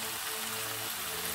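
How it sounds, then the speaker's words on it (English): Water going into a simmering Kenyan-style kienyeji chicken stew makes a soft, steady, fairly faint patter and hiss of pouring and bubbling liquid, with a low background hum and no voices. "let's add the water."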